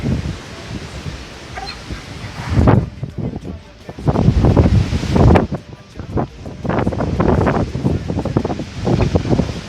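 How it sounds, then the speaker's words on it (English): Strong wind roars in heavy gusts after Hurricane Maria, buffeting the microphone with rumbling bursts that rise and fall, with a voice partly audible beneath. "Still very windy."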